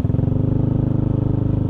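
Yamaha Nmax 155 scooter fitted with a TZM racing exhaust, riding along with a steady, loud, close engine drone and a fast pulsing exhaust burble, with no talking.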